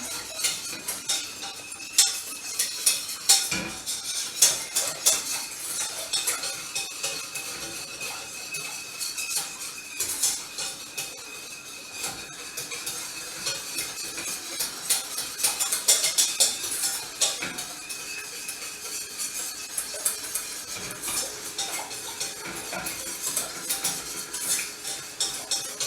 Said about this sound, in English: So you have to keep stirring it, and you have to keep your eyes on it, otherwise it will burn.